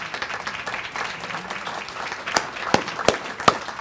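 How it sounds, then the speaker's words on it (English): Applause from a large audience of local business representatives at a city's annual address, a steady broadband patter with a few sharper claps standing out near the end, moderately distant. "Go ahead and applause"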